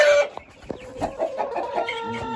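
Two hens, an Ameraucana and a Chinese breed, cluck repeatedly in a series of close, moderately loud short calls with no talking.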